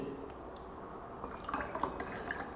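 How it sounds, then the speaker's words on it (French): Kangen water poured into glasses of different liquids, quiet faint trickling and dripping with small glassy clinks growing busier in the second half, over a low background hum. "je vais prendre l'eau Kangen que je vais verser dans les différents liquides"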